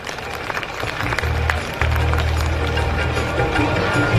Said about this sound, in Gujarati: આપણે બધા તેમને તાળીઓથી વધાવીશું.